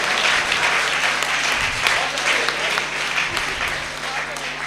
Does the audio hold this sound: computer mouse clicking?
no